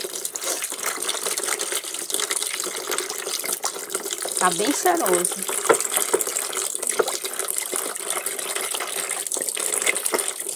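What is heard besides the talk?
tap water running while dissolving soap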